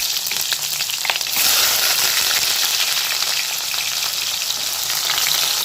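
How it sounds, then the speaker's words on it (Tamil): Onions sizzle and hiss in hot oil with fenugreek and cumin seeds for a country-fish curry, a steady dense frying crackle throughout, rising a little louder after the first second, with no talk. "இப்போ பாருங்கள், இப்போ வெங்காயத்தை நல்லா வதக்கிக்கிறோம்"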